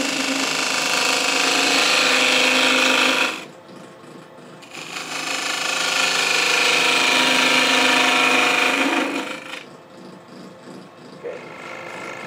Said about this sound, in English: I'm going to switch to a 3/8 inch bowl gouge to start working on this tenon.